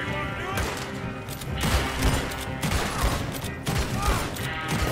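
Repeated gunshots in Red Dead Redemption 2, a run of sharp booming reports spread across the moment, with game sounds and some speech mixed underneath.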